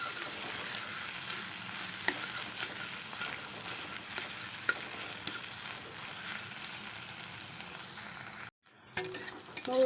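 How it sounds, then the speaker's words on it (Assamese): Two eggs sizzle steadily in hot oil in a pan for a home-style brinjal and egg dish, a continuous close frying crackle with occasional pops, briefly cut off near the end before resuming. "কণী 2টা মই আগত এনেকৈ ভাজি লৈছোঁ।"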